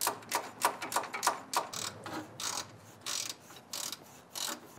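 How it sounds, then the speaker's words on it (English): A thin socket wrench ratcheting bolts on an AC condenser bracket of a 2004 Chevrolet Silverado, a quick run of close clicking strokes followed by slower, longer rasping ratchet pulls. "we're actually going to use this really thin socket wrench tool"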